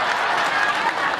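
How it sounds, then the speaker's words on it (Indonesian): A large crowd at an outdoor Islamic sholawat gathering for the Prophet's birthday applauds an elderly woman: a brief, loud, continuous wash of clapping and crowd noise with no distinct individual claps. "Tepuk tangan buat nini kita"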